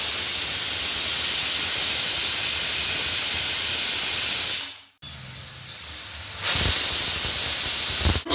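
Pressure cooker on a gas flame boiling peas for ghugni, releasing a loud, steady broadband steam hiss that cuts out abruptly, returns quieter, then surges again near the end.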